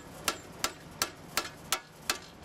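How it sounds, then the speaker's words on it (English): A big hammer strikes the bottom of a car's tie rod arm during CV joint and axle work, six sharp metallic blows evenly spaced and close, with no talking. "get a big hammer and hit the bottom"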